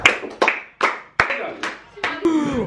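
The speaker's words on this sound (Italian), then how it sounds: "Dobbiamo fare un applauso." A group applauds at a dinner table, with a series of sharp, separate handclaps spaced about half a second apart, loud and close, ending in a burst of cheering and voices.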